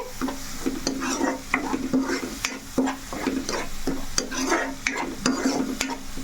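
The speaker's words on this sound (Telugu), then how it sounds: "ఈ మసాలా పేస్ట్ కూడా మనకి చక్కగా వేగాలండి ఎంత వేగితే అంత టేస్ట్ వచ్చింది మనకి కూర అనేది" Masala paste for egg curry fries and sizzles steadily in a pan, with frequent stirring scrapes and clacks from a spoon breaking up the constant crackle, close and moderately loud.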